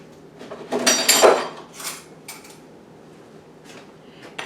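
Cucumbers and onions tossed together in a bowl for Korean cucumber pickles, giving a few soft clattering, scraping bursts of utensil against bowl, loudest early and fading to quiet.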